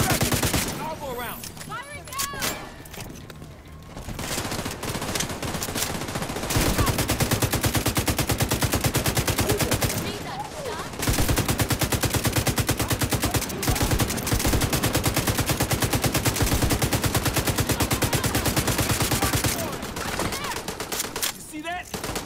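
Sustained automatic gunfire in The Division 2, loud close bursts that pause briefly and resume, forming long continuous volleys with a short shout near the start.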